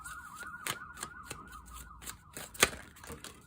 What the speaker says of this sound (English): The ambulance, which does happen fairly often because I do live downtown.